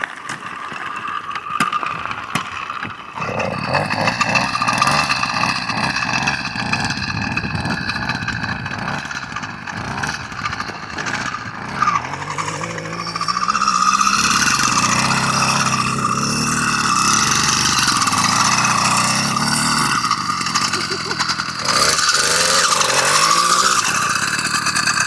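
100cc motorized bike engine revving in snow for a burnout, a loud continuous buzzing drone with rising and falling pitch over about 25 seconds, no voices.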